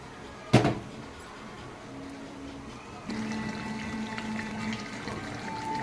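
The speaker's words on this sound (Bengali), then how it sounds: "এর ভিতরে আমি দিয়ে দেবো কিছুটা গরম জল।" Hot water is poured into a pan of braised meat curry: a sharp knock first, then from midway a steady rushing pour with bubbling, nearby and without speech.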